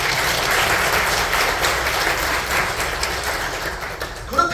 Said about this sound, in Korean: 이럴 때 박수 한번 쳐야 되지 않습니까?